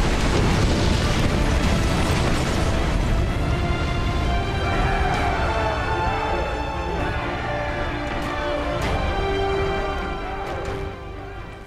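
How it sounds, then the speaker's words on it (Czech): A loud, sustained rumbling dynamite blast in the video game Valiant Hearts fills the clip, with crackling debris and a slowly fading roar, no voices present. "tady dáme dynamit na dráty, doběhneme k tomuhle a BUM HO!"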